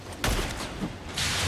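Gunfire from enemy guards in the Spider-Man Miles Morales video game, a brief burst of loud cracking shots with a sharp report near the start and a noisy, dense texture throughout.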